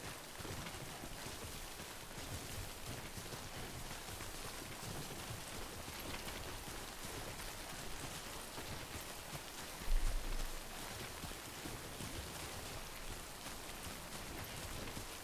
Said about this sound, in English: I cannot believe I'm getting rained on right now.